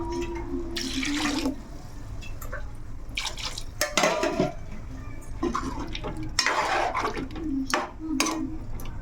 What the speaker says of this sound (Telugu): మామూలు వాటర్ వేసుకుందాం.